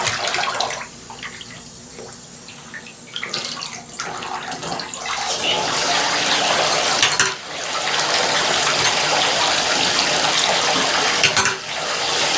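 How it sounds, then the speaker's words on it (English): Hot water gushes from a newly installed bathtub faucet opened all the way, a loud, steady broadband rush that swells after a quieter start, briefly dips twice, and keeps splashing with no talking. "crank it all the way open. I want to get hot water."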